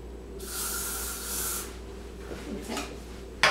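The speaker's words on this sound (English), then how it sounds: "I think we got some hairspray." Hairspray hisses onto hair being styled into beachy waves with a curling iron, one steady burst of about a second, then a shorter puff, and a brief clunk at the end.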